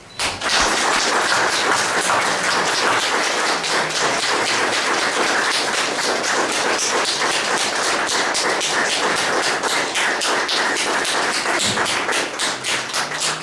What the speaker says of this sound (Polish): Jeszcze nie było takich długich oklasków.